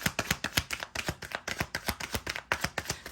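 Tarot cards shuffled loudly and rapidly, a steady run of crisp riffling slaps and clicks close to the microphone, with no voices over them.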